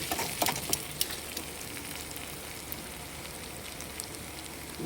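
Meat frying in its own rendered fat in a home kitchen, a steady, dense sizzle with small pops, strongest near the start and settling into an even crackle, close and with no one speaking.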